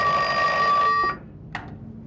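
An old-style telephone bell rings loudly for about a second, followed by a brief click as the call is picked up, then quiet.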